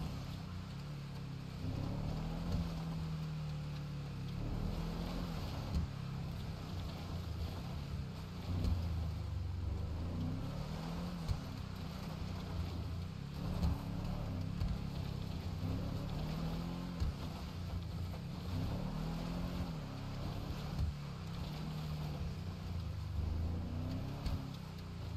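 Car engine from a vehicle in a video game driving down into a mine, a low continuous rumbling drone with slight rises and falls in revs, steady and fairly quiet with no talking.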